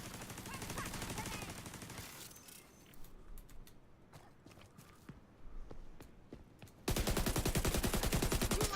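Rapid automatic gunfire from a video game firefight, loud, dense bursts at the start and again at the end, with quieter scattered shots and thuds in between.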